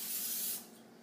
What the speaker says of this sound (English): I'm going to spray it with olive oil again just to make sure